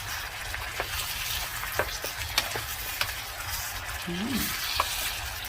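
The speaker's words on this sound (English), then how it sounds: "mix it well so the seasonings will be melt to the shrimp" Seasoned butter garlic shrimp sizzle steadily in a hot pan while a utensil stirs them, with soft scraping clicks over the constant frying hiss.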